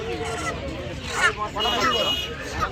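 Desi chickens cluck and squawk among a busy poultry market crowd, with chatter and bargaining voices under the bird calls, several short honking cries rising over the steady hubbub.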